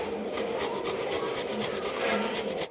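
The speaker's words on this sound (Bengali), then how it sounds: "তো এবার সব কটা এই কাঁঠালেরটাকে এইভাবে ঘষে নিতে হবে" Jackfruit is grated by rubbing it against a grater, making a continuous close scratchy rasp with quick repeated strokes for a few seconds and no voices.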